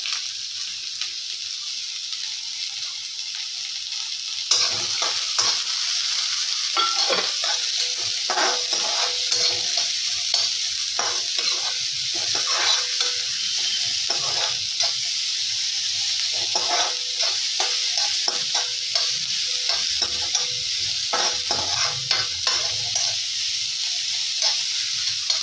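Chopped onions and cumin frying in oil in a kadhai, a steady loud sizzle with repeated scraping stir strokes that start a few seconds in and continue throughout.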